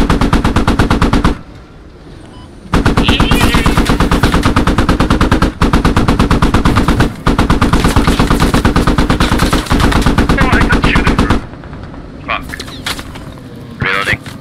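Automatic weapon fire in the tactical shooter game Squad, long rapid bursts of loud cracking shots broken by brief pauses, close up, with voices talking over the action.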